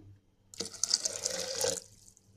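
A glass of water pours in a short splashing burst into a blender jar holding yogurt, lasting about a second, close and clear against quiet surroundings.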